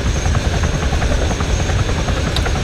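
A helicopter in the Arma 3 military game drones steadily with a loud, constant rotor and engine roar, close and continuous, no voices.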